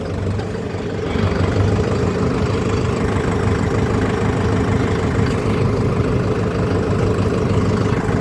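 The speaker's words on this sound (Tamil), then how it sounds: "அந்த வண்டி தான் கத்த ஆரம்பிச்சிருச்சு" A Mahindra vehicle's engine runs at a steady idle close by, a loud, continuous low rumble that rises slightly after the first second and then holds level, with no voices.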